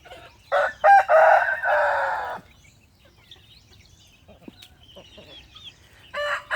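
A Pradu Hang Dam (Thai black-tailed) rooster crows loudly, followed by quieter scattered clucking from free-range chickens, then another crow beginning at the end.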